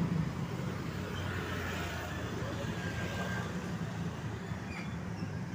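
Buses idle and pass by in a residential complex, a steady low engine rumble with broadband road and traffic noise throughout, fairly close and continuous without clear individual passes.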